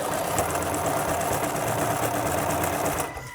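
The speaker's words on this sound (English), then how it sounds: "I'm just going to stitch very closely to the edge all the way around the outside curve." A sewing machine stitches pockets onto a Mary Quant-style minidress, sewing close to the edge around a curve with a continuous rapid mechanical whirring, close and steady, then slowing to a stop at the end.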